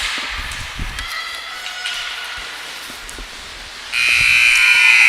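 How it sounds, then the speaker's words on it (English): A loud electronic final buzzer sounds at the end of an under-18 women's ice hockey game, blaring steadily in the last second over crowd and arena noise. "And the final buzzer goes."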